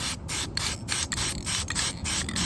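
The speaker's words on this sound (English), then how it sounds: "I'm gonna try my best to spray and videotape at the same time so you can see how it pulls up nicely" An aerosol can sprays dip coating onto a truck emblem on a 2023 Chevrolet Colorado from close range, giving a series of short hissing bursts with slight pauses between them.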